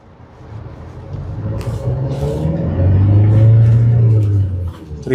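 A 2020 Hyundai Creta SX diesel starts up and pulls away in first gear, its engine rumble growing louder and steadier close by inside the cabin.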